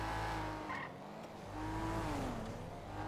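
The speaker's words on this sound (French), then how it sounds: "Il y a encore le bruit du moteur." A car engine in the GTA roleplay video game drones steadily, its pitch rising and falling, with a hint of tire squeal. No voices are heard over the engine.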